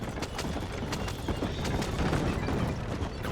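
Horses galloping in Red Dead Redemption, a dense stream of hoofbeats with a clip-clop rhythm running steadily throughout, fairly loud and close, with no talking over it.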